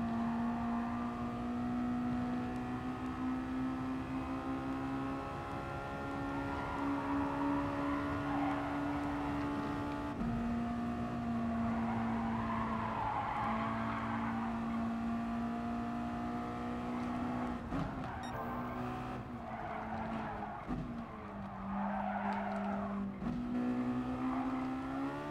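A Mazda MX-5 race car engine drones loud and steady while climbing the mountain at Bathurst, its pitch holding through long gear pulls, then dipping and rising quickly with shifts near the end.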